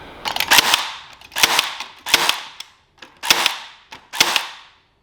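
A DeWalt electrician's cable stapler firing cable clips: five sharp, loud snapping shots at roughly one-second intervals, each with a brief rattling tail, close up with no talking.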